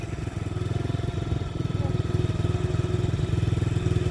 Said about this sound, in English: You need to think when you're on a four-wheeler.